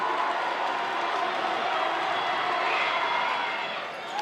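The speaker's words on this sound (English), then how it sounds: "They're doing a great job cheering on their team." Lively student section cheering throughout a high school basketball playoff game between West York and Shippensburg, a steady roar of crowd noise filling the gym at fairly even loudness.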